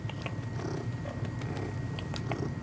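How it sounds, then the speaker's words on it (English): A cat purrs steadily up close, a low rhythmic rumble with a few small clicks and rustles around it, no talking. "Oh, guys, we got a cat."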